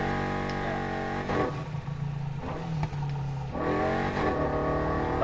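A 4.0 liter V8, 577 horsepower, in the Need for Speed Heat video game revs hard with a steady engine drone and rising and falling throttle sweeps, loud and continuous with no talk.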